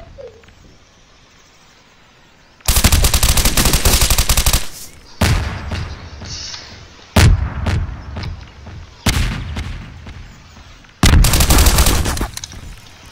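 Bursts of AAC Honey Badger rifle gunfire in the Garry's Mod video game: a long sustained automatic burst, then several shorter volleys and single shots, loud and close, separated by quiet gaps with no talk.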